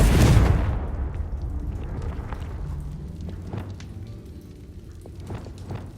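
A Confringo blast spell from the game Hogwarts Legacy goes off as a loud, booming burst at the start, then decays into a long rumbling tail with scattered crackles and debris.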